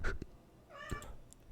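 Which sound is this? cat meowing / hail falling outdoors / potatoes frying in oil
cat meowing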